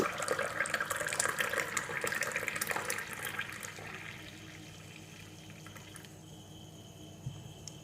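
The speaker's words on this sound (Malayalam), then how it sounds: "ചായ പൊക്കി ഒഴിക്കുകയാണെങ്കിൽ നന്നായി പതഞ്ഞു വരും." Milk tea is poured from a height into a serving cup to froth it. A steady splashing stream runs loud for about four seconds, then fades to a quieter trickle with faint clinks.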